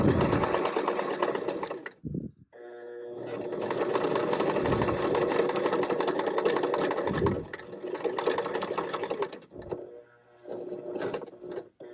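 A sewing machine set to a buttonhole stitch of 0.5 length and 5 width stitches a buttonhole nearby, its rapid mechanical whirring running in bursts with brief pauses between them.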